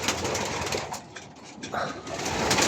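Racing pigeons coo softly against a dense, hissy background, with faint voices nearby.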